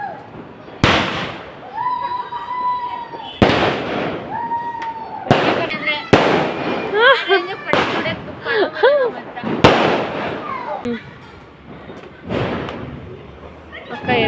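Diwali firecrackers at a home celebration go off in a string of sharp, loud bangs and crackles, some with whistling, shrill sparks between them, while voices carry on in the background.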